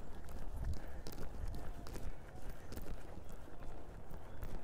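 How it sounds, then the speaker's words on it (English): A young, green horse trotting, its hoofbeats landing in a steady two-beat rhythm, moderately close and clear with no one talking. "So we'll just take her to the trot and see what happens there."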